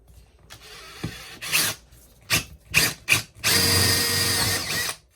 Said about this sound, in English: I'm going to use a 1/2-inch drill bit for all of these